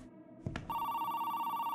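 A telephone rings inside a horror video game set in a house, a bright sustained electronic ring starting after a short thump, loud and close.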